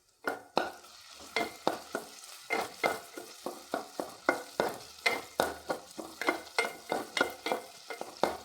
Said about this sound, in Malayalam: ഇളക്കി കൊടുത്തോണ്ടിരിക്കാം.